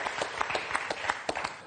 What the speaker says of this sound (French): alors là j'applaudis